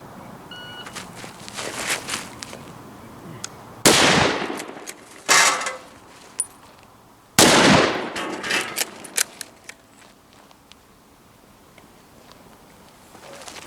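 Scout rifle shots ring out in a timed, aimed shooting drill: three loud, sharp reports with long reverberant tails, spaced a few seconds apart, alongside fainter clicks and beeps.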